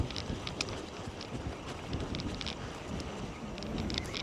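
Strong wind on a beach shore during a night cod fishing match, a steady close roar buffeting the microphone with rumbling gusts throughout.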